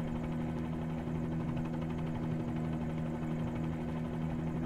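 A helicopter rotor and engine in Microsoft Flight Simulator drone and thrum steadily at close range, a constant loud whirring hum with no break and no voices.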